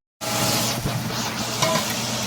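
Chopped onions and scallions sautéing in hot oil with seasoning, a loud close steady sizzle that starts abruptly and holds without a break.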